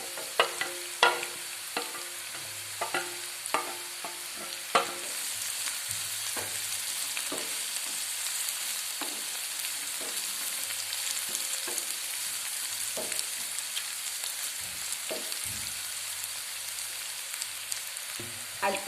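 Slit green chillies and curry leaves fry in a pan with onions for a tomato fry, a constant close hiss broken by frequent sharp crackles and stirring scrapes.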